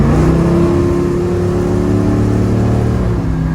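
1972 Chevrolet Nova with a big-block V8 engine, a loud, steady, deep engine rumble held close and constant for a few seconds with no talk over it.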